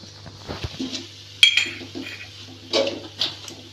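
A metal spoon scrapes and clinks against a cooking pot as masala is stirred into a prawn thokku, with a few soft knocks and one sharper clink, close and moderately loud with no talk.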